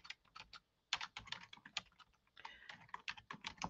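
Quick, irregular bursts of keystrokes on a computer keyboard as a product title is entered, close and clear with brief pauses between words and no talking.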